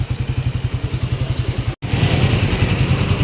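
A Suzuki Raider 150 Fi motorcycle engine, just overhauled, idles steadily up close, its low, even chugging pulses continuing with only a momentary dropout partway through.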